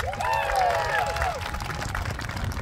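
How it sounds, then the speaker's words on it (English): Audience applause and crowd noise fill the space at a marching band field show introduction, a steady wash of clapping under a brief melodic sound early on. "We'll give him a round of applause."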